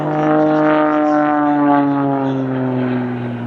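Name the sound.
aerobatic propeller plane engine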